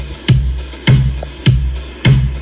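Four-on-the-floor drum beat in an electronic track: four evenly spaced, punchy kicks with bright transients over a steady sustained low bed, loud and close.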